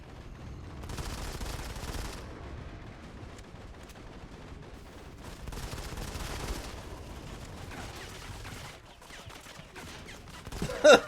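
An enemy turret fires in the iOS shooter Modern Combat 5: dense rolling bursts of automatic gunfire come in two heavy waves separated by quieter stretches, with no talking.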